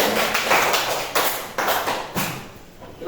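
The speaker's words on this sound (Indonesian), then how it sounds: "Tepuk tangan untuk kelompok 2." Classroom applause for a student group coming to the front, a dense wash of many hands clapping at once with a few sharper surges, close and steady for a few seconds with no talk over it.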